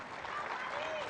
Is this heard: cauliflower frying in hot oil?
no